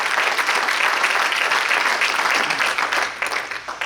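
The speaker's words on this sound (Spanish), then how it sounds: "Alguien puede darle un aplauso a Jesucristo." A church congregation claps and cheers together in a sustained burst of applause that fills the room at a steady level, then begins to thin and trail off toward the end.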